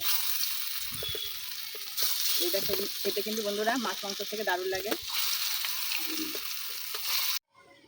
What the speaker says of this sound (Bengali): তেলটা দিয়ে দিয়েছি, কড়াই গরম হয়ে গেছে। এইভাবে ভেজে নেব।